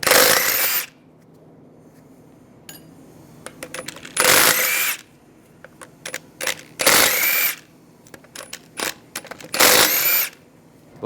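An impact or power tool with a 17mm socket spins lug bolts off the wheel of a 2006-2009 Mercedes-Benz E350. Four loud, whirring bursts come close up, separated by clinks and rattles of loose bolts, with no talk.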